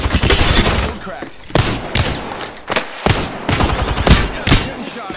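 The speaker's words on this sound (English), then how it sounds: "Getting shot at." Video game gunfire in rapid bursts, loud close automatic fire broken into several volleys with short gaps between them, a voice partly mixed in.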